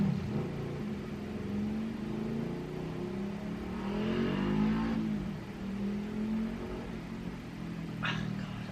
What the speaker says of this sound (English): you people revving your freaking motorcycle